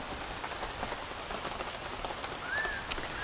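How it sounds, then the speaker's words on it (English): Steady rain falls on a very rainy day during an outdoor beehive inspection, a dense, even patter of drops hitting surfaces nearby, with a faint bird chirp near the end and no talking. "Hopefully the rain's not too loud. We've got a very rainy day here."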